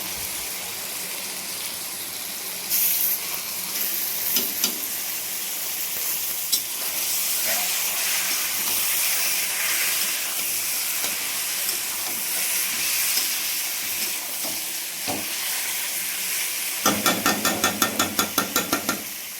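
Lemon-and-salt marinated chicken dropped into a hot pan, a loud, steady hissing sizzle that keeps going throughout, with a few sharp clatters and spatters near the end.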